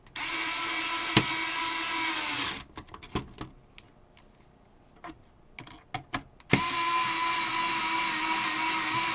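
A Ryobi power drill whines steadily while driving screws into a 3D printer frame, pauses for several seconds of clicks and handling taps, then revs up again for a long, close run.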